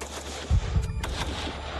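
Gunfire from French Foreign Legion paratroopers (2e REP) in combat training, two or three close, heavy shots in quick succession followed by fainter reports.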